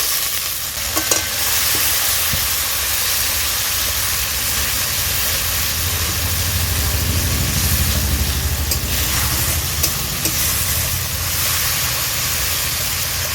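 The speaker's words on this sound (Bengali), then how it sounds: "টমেটোর কাঁচা গন্ধ যাওয়া পর্যন্ত আমি এটাকে কষে নেব" A tomato mixture with a splash of water being sautéed in a pan, a loud, dense hissing sizzle that runs steadily with occasional soft stirring knocks and scrapes.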